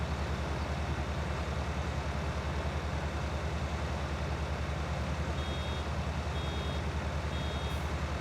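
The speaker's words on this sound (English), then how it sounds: "The beeping is telling us that the baler is about to fill up." In Farming Simulator 19, a loud, steady baler drone fills the scene while three short, evenly spaced warning beeps, signalling the baler is nearly full, sound faintly near the end.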